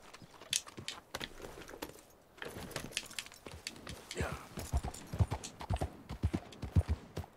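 Horse hooves clip-clopping in the video game Red Dead Redemption, a quiet uneven trot of hoofbeats that grows denser and louder toward the end, with faint game ambience and soft voice sounds underneath.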